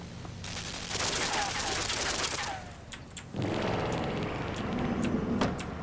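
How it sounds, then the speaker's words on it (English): Rapid machine gun fire in the video game Limbo, a dense sustained burst that pauses briefly and resumes, fairly loud with no talk over it. "It blocks off the machine gun."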